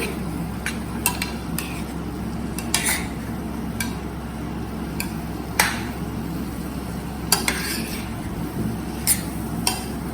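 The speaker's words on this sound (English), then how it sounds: "Because we are stirring." Bottle gourd stirred in a pan over a high flame, scattered sharp clinks and scrapes of the utensil against the pan above a steady low hiss, with no talking.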